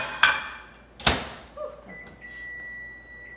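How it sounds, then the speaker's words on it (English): Two sharp clunks of a microwave door opening and shutting, then button beeps followed by the steady hum of the oven running. "We're gonna pop it in the microwave"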